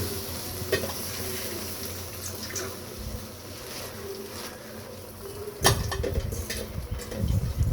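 Malabar spinach cooking with shrimp in a large pan over a low flame, giving a steady soft sizzle with scattered crackles and a louder burst of frying and stirring near the end.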